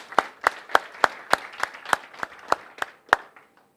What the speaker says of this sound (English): Let's give the provinces, the districts, and the program participants a round of applause.